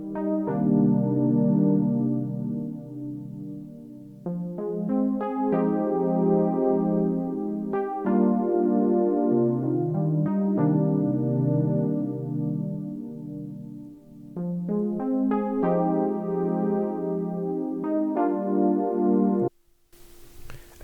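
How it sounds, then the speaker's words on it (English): Cool Down Pad preset on a Prophet synth plays soft, warm minor-ninth chords, each struck and held for a couple of seconds in a slow, even progression, alone and up close, fading out near the end. "The preset I used is Cool Down Pad and it sounds like this."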